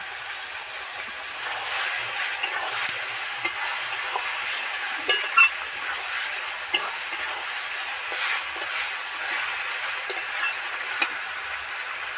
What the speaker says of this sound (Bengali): পেঁয়াজগুলো সফট করে ভাজা ভাজা হয়ে এসছে। এবার এর মধ্যে আদা রসুনের পেস্টটা দিয়ে দেব।